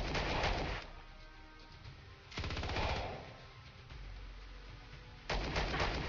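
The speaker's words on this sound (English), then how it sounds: "Pistol barrage, go." Pistol barrage gunfire in the space strategy game Star Traders: Frontiers, coming as three separate bursts of rapid shots with quieter gaps between them, with no talking.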